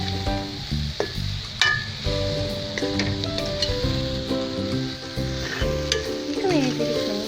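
Kottu with boiled jackfruit pieces, made without bread flour, sizzles steadily in a hot pan as it is stirred and mixed, with occasional clinks, under continuous background music.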